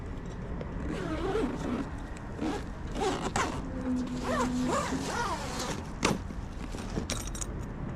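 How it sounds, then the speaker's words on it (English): A zipper on the cover of an OpenRoad 4WD free-standing 270 awning is pulled shut in several quick, close, rasping strokes amid light handling clatter. "And then you get your zipper."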